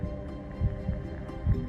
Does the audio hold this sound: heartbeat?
yes